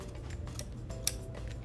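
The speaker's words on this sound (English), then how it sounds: "Take out my handy dandy pair of scissors here," A pair of scissors snips extra quilt binding fabric, giving a few quiet crisp cuts with one sharper snap partway through, faint and close against a low background hum.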